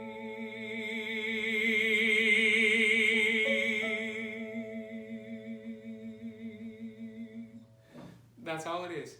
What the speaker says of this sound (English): Just moving from quiet to loud to quiet.